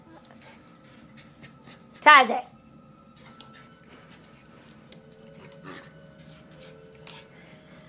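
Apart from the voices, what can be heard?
Jack Russell puppy and Pomeranian play-fighting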